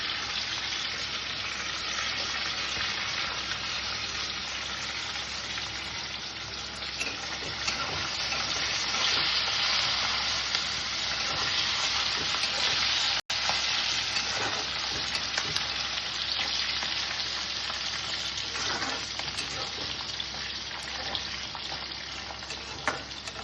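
Curry leaves fry in hot oil in a pan for a Telugu panasapottu curry, a steady loud sizzle with the scrape of stirring, and one sharp knock partway through.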